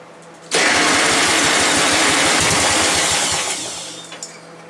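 An old snowblower engine cranks and catches, then runs loud and steady on its own for several seconds before tapering off slightly near the end.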